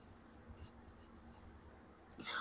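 A pen writes the name Sita by hand during a Hindi-to-English translation lesson, a faint, close scratching of short strokes on paper with a louder brush at the end.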